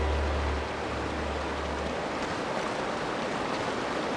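A river rushes through a jungle near a waterfall in the video game Uncharted: The Nathan Drake Collection, a steady, loud, even wash of flowing water that fills the whole stretch with no talking.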